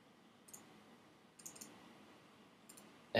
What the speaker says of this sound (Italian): Click the color box.